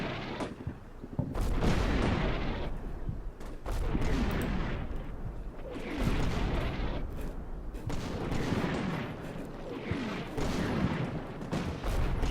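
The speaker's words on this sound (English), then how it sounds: "Heavy enemy artillery fire on this position." Heavy enemy artillery fire pounds a position in Combat Mission Shock Force 2, with repeated booming impacts and scattered gunfire rolling in waves over several seconds, loud, with no one talking.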